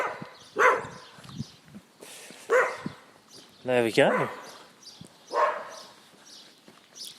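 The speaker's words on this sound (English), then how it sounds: "Two beautiful dogs saying good morning to me." Two dogs barking out a morning greeting in short bursts, with one harmonic yelp standing out, mixed in among a person's nearby speech.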